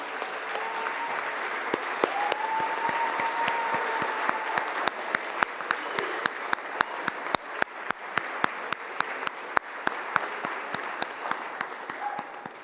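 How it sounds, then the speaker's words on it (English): Round of applause from an audience honoring school staff at a district awards ceremony, steady crowd clapping with sharp individual claps cutting through, and a brief bit of speech early on. "will all FCPS staff present tonight please rise for a round of applause?"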